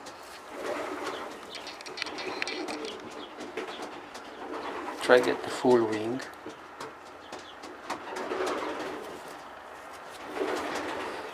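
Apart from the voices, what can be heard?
young marathon strain pigeons cooing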